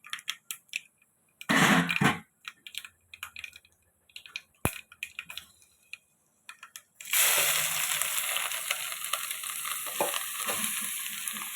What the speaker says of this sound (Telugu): ఇక తాలింపు గింజలు వేసాను.